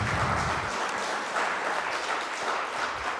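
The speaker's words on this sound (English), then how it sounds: "let's give Bill a round of applause for his program this evening" Steady, dense applause from a sizable audience, a continuous wash of many hands clapping at even loudness throughout.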